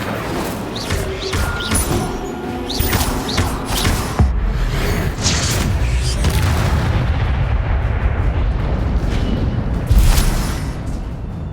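Fire spell blasts in Hogwarts Legacy: a string of loud, booming fiery bursts and rumbling impacts that keep going with hardly a pause, mostly free of voices.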